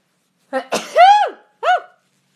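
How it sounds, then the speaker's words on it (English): A single close, loud sneeze with a sharp intake of breath before it, followed by a brief voiced exhale; no talking. "I had to sneeze."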